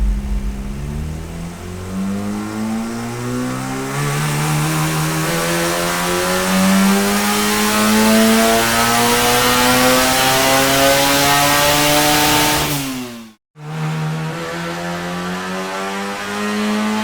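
Car engine held at high RPM during a test, a loud, steady drone that climbs gradually in pitch for over twelve seconds, cuts out abruptly for a moment, then resumes at a high idle-like hum.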